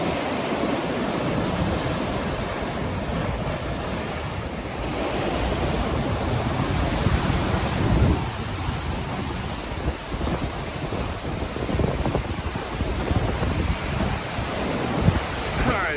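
Ocean waves and surf washing in at a beach, a steady, loud broadband roar of churning water with gusts of wind noise buffeting the microphone throughout.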